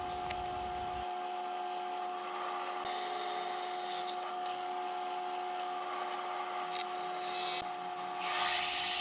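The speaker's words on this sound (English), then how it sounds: "Then I center punched them so I could drill pilot holes, starting with I think it was an 1/8 inch bit and some oil to keep the bit cool." A drill press bores pilot holes with a small bit lubricated by oil, a steady high whine with a faint rasping grind running throughout, interrupted by a few brief clicks and a louder burst at the end.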